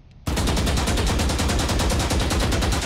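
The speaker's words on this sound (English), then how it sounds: "Focus your aim, then fire a full magazine into the target." A full magazine emptied at a target in the video game Valorant: rapid automatic gunfire in a steady, loud stream of shots that starts abruptly and runs without a break.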